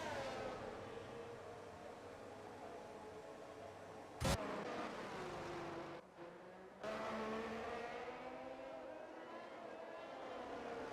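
A Ferrari Formula 1 car on a lap of the Circuit of the Americas in an F1 racing video game, its high-pitched engine whining continuously through rising and falling revs, with a sharp click and a brief dip in the sound partway through.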